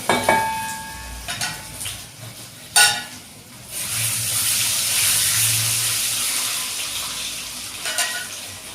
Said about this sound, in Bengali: ভালো করে এটাকে ফ্রাই করে নেব।